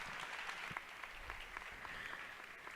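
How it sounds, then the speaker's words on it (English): A robotics competition crowd at a FIRST Tech Challenge qualifier applauds the judges with steady, sustained clapping that sounds somewhat distant and fairly quiet throughout. "Let's give them a big round of applause for their dedication."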